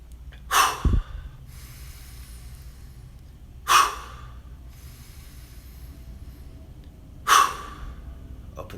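Three slow, deep breaths during a morning stress-relief meditation, each a sharp close exhale spaced a few seconds apart, with a quiet steady background between them.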